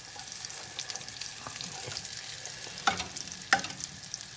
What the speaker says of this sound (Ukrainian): Ці вже посмажилися, а ці досмажуються.